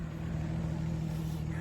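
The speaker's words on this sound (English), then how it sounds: "Very loud car." A very loud car passes a runner training for a 10k, its steady engine roar filling the whole moment at close range.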